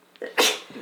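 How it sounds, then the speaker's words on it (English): One sharp, close sneeze bursts out after a brief intake of breath, followed by a faint exhale. "One second, I have a sneeze."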